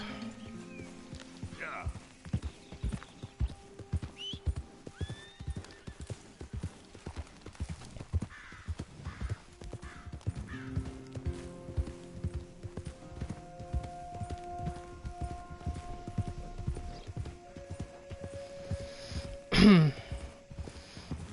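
Horse hooves clip-clop steadily in the open-world game Red Dead Redemption 2, a heavy Shire draught horse walking along with an even rhythm, a brief whinny near the end and voices talking over the top.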